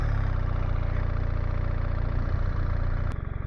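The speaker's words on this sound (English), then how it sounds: "let's start the bike" A BMW motorcycle fitted with the Automated Shift Assistant settles into a steady, close, low-pitched idle with a fast, even throb, dipping slightly in level near the end.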